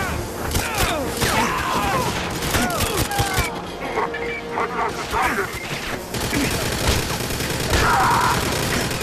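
Gunfire in the Wii version of GoldenEye 007 crackles in dense, overlapping bursts throughout a hectic firefight, mixed with explosions, game music and shouted character voices.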